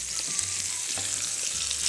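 Marinated lamb chops sizzle steadily on a deluxe electric grill and griddle, a close, dense hiss of frying with a faint low hum underneath and no voices.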